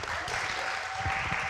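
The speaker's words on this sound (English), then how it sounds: "A round of applause" Audience applause at a migration-literature festival event, a steady wash of clapping filling the short stretch, with faint voices low underneath.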